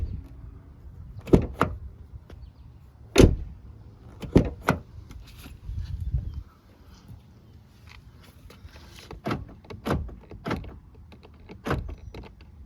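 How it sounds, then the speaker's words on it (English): Doors on a Toyota car being shut several times, each close a sharp, solid thud heard up close and spaced a second or two apart, with quieter rattles and handling noise between and no talking. "it feels good when you close the door"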